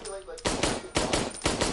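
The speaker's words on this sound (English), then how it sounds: "you can double tap with the pistol" Pistol shots in a video game fire in a quick, evenly spaced series of three sharp, punchy cracks, each with a short echoing tail, close and loud.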